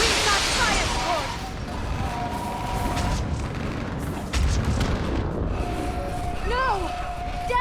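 Artillery fire support pounding a building in Mass Effect 3: sustained heavy booms and rumbling blasts fill the scene, with whistling projectile sweeps and voices talking over the barrage.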